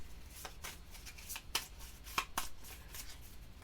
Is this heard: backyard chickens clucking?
no